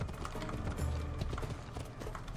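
A horse's hooves clop steadily in the video game Assassin's Creed Odyssey, a continuous rhythmic patter under busy in-game background noise, with nobody speaking.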